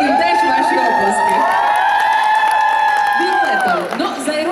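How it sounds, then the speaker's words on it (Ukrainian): A concert crowd at a shopping-centre stage show for Voice of Ukraine finalists cheers and shouts loudly for the singers and musicians, a continuous roar of whoops and children's voices with some clapping, easing slightly at the end. "і музиканти «Голос України», яким теж ваші оплески"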